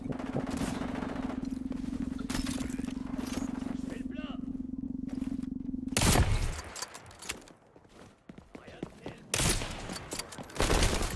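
Bursts of automatic gunfire from the XDefiant shooter game: a sustained rattling stream of shots, then sharp, loud bursts after a pause, with someone talking over parts of it.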